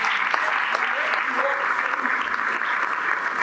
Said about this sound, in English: can we please give them a big round of applause